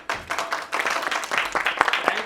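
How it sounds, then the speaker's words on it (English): An audience claps and cheers in a dense, sustained burst of applause that rises quickly and carries on with a few sharper claps standing out. "Give a big round of applause for this audience."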